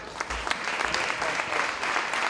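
An audience claps through a dense, continuous burst of applause at a Dancing With The Stars dance show in Auburn, steady and fairly loud for a couple of seconds with no voices.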